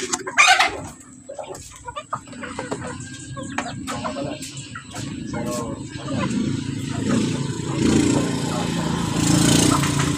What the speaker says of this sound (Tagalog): Kaon na ta sa mga manok guys,